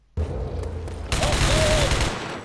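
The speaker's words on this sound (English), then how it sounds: "Suppressing fire!" Suppressing gunfire in the Rogue Trooper Redux video game: a sudden loud burst of rapid automatic shots that holds steady, then grows denser and heavier about halfway through before easing slightly at the end.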